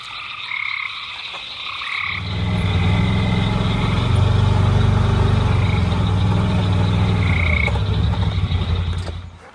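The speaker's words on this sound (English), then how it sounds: "Look at that frog. It's a big old frog." Big frog croaking loudly and continuously at a pond, a deep rhythmic throaty drone that starts after a couple of seconds and holds steady near the listener, with no talk over it.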